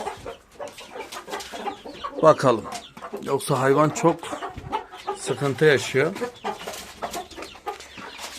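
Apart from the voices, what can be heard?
chickens clucking in a coop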